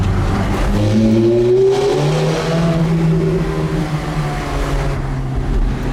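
A 490 hp high-performance car in race mode revving inside the Goodwood tunnel, with sharp rising engine blips echoing close and loud, then settling into a lower burbling note.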